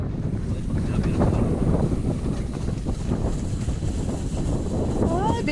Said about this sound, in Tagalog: bigla na naman siyang dumilim at may hangin